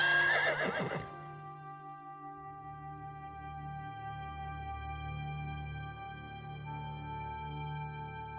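Horses in the Elder Scrolls Online video game give a clear, loud whinny that fades into calm, sustained tonal background music.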